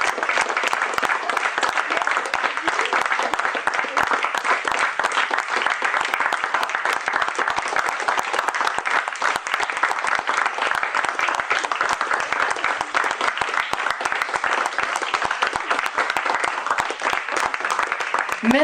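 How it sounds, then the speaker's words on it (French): A cabaret audience in Nantes applauds a troupe of performers, a dense, steady wash of clapping that stays loud and even for the full stretch with no talk over it. "il va falloir les applaudir"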